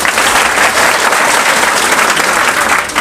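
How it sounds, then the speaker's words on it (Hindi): A group claps to celebrate students' 2023 matric exam results at a coaching centre: loud, continuous, even applause from many hands, unbroken for the full three seconds with no voices over it. "तो इस बात पे तो ताली होनी चाहिए।"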